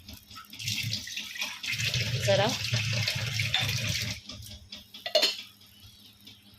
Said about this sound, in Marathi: ह्या कढईच्या झाकणावरती थोडंसं पाणी घालूयात